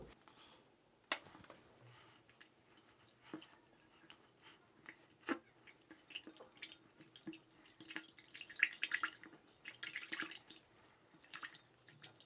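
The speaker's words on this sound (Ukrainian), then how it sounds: "Я кинув одну таку серветочку в воду, вона там трішки постояла, я пальцем трішки переколотив" A soap-forming cleaning tablet dissolves in a container of water while a finger stirs it, giving soft, irregular drips and sloshing splashes that stay quiet and close, with no talking.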